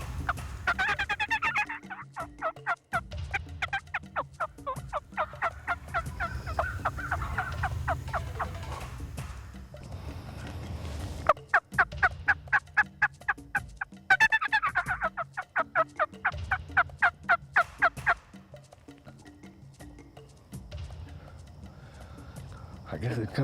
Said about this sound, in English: That gobble there sounded like it was 300 yards maybe.